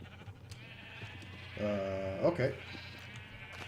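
A Minecraft sheep in The Crafting Dead modpack gives one clear wavering bleat in the middle, close and moderately loud, with a brief spoken word from a person just after it.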